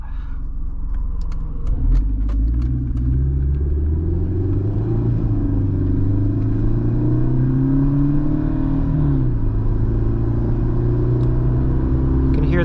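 2005 Mercedes-Benz C230 Kompressor (W203) with its supercharger spooling as the engine revs higher, a loud droning rumble with rising whine heard from inside the car during driving.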